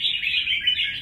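Red-whiskered bulbuls in a molting stage chirp in a bird-keeping setting, their bright, continuous warbling calls loud and close with no pauses.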